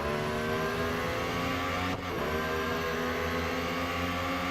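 Lotus Emira GT4 racing car engine in Real Racing 3, a loud steady mid-pitched drone holding revs with a brief dip and shift partway through.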